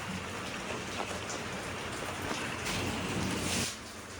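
Heavy rain pours onto a goat shelter in a dense, steady roar of drops that continues throughout, with a slight dip near the end and no voices.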